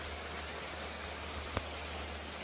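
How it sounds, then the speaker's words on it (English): Rain falls steadily outdoors as a soft, even hiss with a low hum beneath and a couple of faint ticks, quiet and without thunder. "We got rain."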